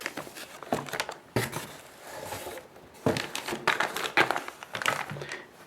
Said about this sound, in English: It should be protected by the anti-static plastic bag. And let's take it out.